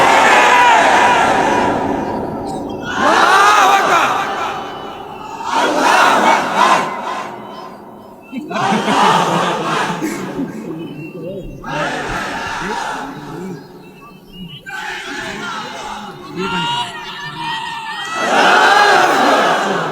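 A large crowd at a Bengali religious gathering in Rajshahi chants slogans in loud, rhythmic bursts, roaring voices rising and falling in repeated waves with short pauses between.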